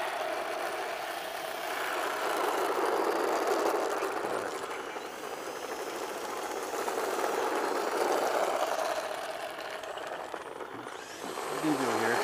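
A Force RC F-18 Blue Angel model jet's engine whines steadily at a distance during landing practice, its pitch sagging and rising as the throttle is eased back, ending in a brief drop near the close.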